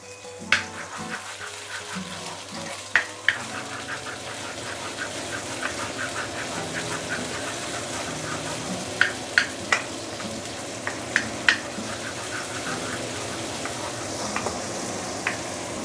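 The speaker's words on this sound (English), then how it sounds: "You will start with saute the shallot." Shallots sauté in a pan under a constant sizzling hiss, with scattered metallic clinks of a utensil against the pan. Some clinks come in quick little bursts. A kitchen hood adds a low hum beneath.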